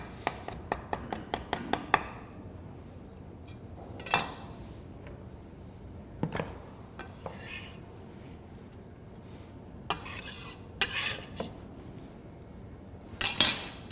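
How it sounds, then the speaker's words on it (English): A knife chops fresh cilantro on a board, a rapid run of sharp close taps at first followed by scattered single knocks and clinks, moderately quiet and with no voices. "our fresh cilantro that I'm going to give a quick chop at the last second"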